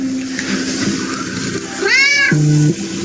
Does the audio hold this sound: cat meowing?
yes